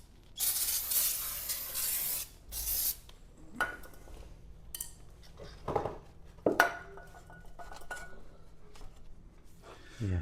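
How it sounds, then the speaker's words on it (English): Several hissing bursts of a spray bottle onto a classic motorcycle, a long one followed by shorter squirts, mixed with light clinks and brief background talk. "spray a bit more of that on it"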